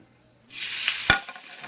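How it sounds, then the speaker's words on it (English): After a moment of silence, chicken is placed top side down into hot oil in a pan and a loud, bright sizzle erupts, with a sharp crackle partway through. "Listen to that sizzle"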